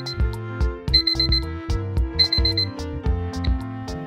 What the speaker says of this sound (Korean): 이어폰 찾기는 근거리에서 이어폰을 분실했을 때 유용하게 사용할 수 있지만 소리가 생각보다 크지 않아서